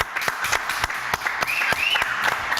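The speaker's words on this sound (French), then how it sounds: "Allez, on les applaudit très très fort." A studio audience on a French news-entertainment show applauds steadily with sharp, dense claps throughout, fairly loud and close, with no voices over it.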